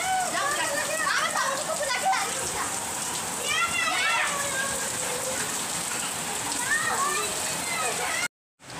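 Heavy monsoon rain in Delhi pours steadily and loudly as a continuous hiss, while children's voices and chatter rise and fall over it throughout before it cuts off abruptly.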